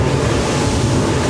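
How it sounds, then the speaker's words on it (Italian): An E-Motion 36 motorboat hull runs through roughly one-metre waves, giving a loud, continuous wash of rushing water and wind with no pauses. "Incontriamo di nuovo le nostre onde"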